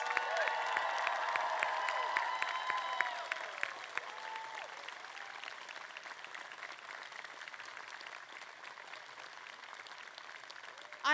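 Graduates at a 2024 diploma ceremony receive a round of applause from the crowd. The clapping is strong at first, then thins into a quieter, scattered patter in a large hall.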